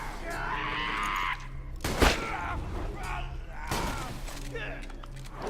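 A shotgun fires once in the Borderlands 2 video game, a single loud blast cutting through busy game noise and a talking voice.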